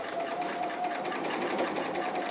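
Sewing machine stitching a fabric appliqué with grey thread, a steady fast mechanical whirring hum with rapid needle chatter, continuous and fairly quiet for the whole stretch.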